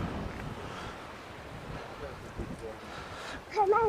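Beach wind buffets the microphones with low rumbling gusts and surf-like noise, rising to a stronger gust near the end, with a voice briefly audible.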